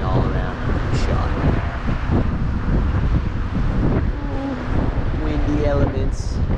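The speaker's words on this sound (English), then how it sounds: "It's pretty windy up here." Strong wind buffets the microphone at the top of the Big Apple, a continuous loud rumbling roar with faint background tones and brief voices underneath.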